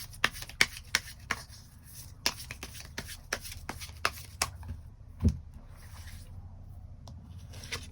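Tarot cards being shuffled and drawn by hand, a run of crisp, quick card slaps and flicks in irregular bursts over a low, steady room hum, fairly close and moderately quiet.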